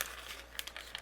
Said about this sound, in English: Let's open these up. They come in a Ziploc baggie,